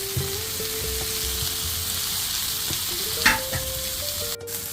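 Tomatoes and curry leaves frying in masala in a pan for a Kerala chicken roast with coconut milk, giving a steady close sizzle with occasional stirring scrapes and a brief clatter near the end.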